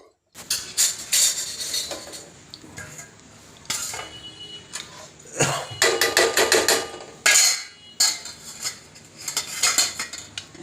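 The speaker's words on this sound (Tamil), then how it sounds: "கரண்டியை போட்டு கிண்டும் போது குறன்னு இருக்கிறது" A ladle scraping and clanking inside a pot of gritty sugar syrup made for modak, in bursts of rough metallic rasps and knocks separated by short pauses, close and fairly loud with no speech.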